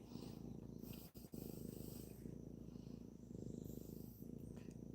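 A house cat purrs close by in a steady, rhythmic rumble that runs the whole time, broken only by a brief pause, with no voices.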